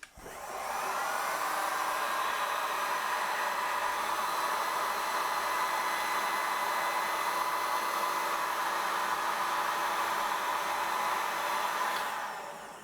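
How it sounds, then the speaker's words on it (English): A 2000-watt heat gun runs on a DJI Power Station 1000, giving a steady, loud blower roar with a hissy airflow that starts abruptly and holds constant for about twelve seconds before cutting off. "now I want to try out my heat gun, and this one is operating at 2000 watts"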